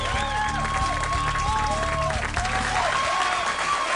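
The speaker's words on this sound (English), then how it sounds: "The crowd applauded Giuliani." A large crowd applauds Giuliani with steady, dense clapping and a few cheers, loud and continuous for the whole stretch.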